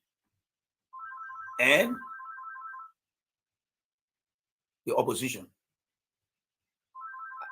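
A phone ringtone plays in repeated electronic trilling bursts with pauses between, loud and close, while someone talks over parts of it.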